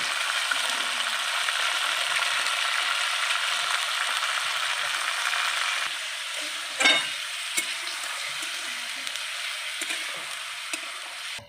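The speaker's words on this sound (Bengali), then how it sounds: "এখানে মাংসটা ভালো করে নাড়াচাড়া করছি" Meat sizzles steadily in a hot pan while being stirred, the frying hiss loud and continuous, easing slightly after the midpoint, with a brief scrape of the spoon near the end.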